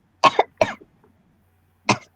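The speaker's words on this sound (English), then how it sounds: "Damn cough." Three sharp, dry coughs come from a nearby person, two in quick succession and then one more after a pause, all in an otherwise quiet room.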